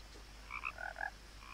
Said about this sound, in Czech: Samý žáby všude.